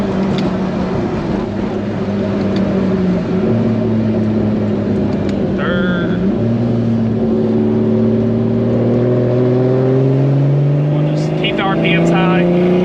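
A 2JZ engine swapped into a BMW E30 with a DCT gearbox, held at high RPM to warm up, drones loudly and steadily, its pitch rising and falling with the revs while people talk over it.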